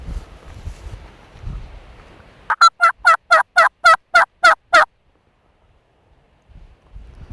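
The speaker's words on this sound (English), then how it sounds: "Gobble right there." A wild turkey in an open plowed field gobbles in a loud, close, rapid run of about nine rattling notes, with quiet wind before and after.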